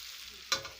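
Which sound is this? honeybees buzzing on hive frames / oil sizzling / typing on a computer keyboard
oil sizzling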